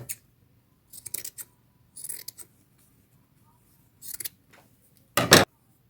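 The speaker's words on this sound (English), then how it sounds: "I have a lot of ruffle left, and I need to cut that off" Scissors cutting off leftover fabric ruffle, several short crisp snips spaced apart in quiet, ending with a louder final cut.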